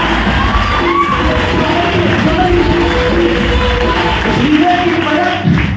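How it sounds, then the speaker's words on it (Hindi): A crowd at a motivational talk about the mountain man Dashrath Manjhi breaks into loud, sustained cheering, whooping and shouting that fills the whole stretch at close range, with voices yelling over a dense roar. "आनंद के लिए जोरदार तालियां होनी चाहिए।"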